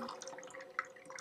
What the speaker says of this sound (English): we're going to pour water, not through the soil anymore, directly into the water reservoir through this opening on the side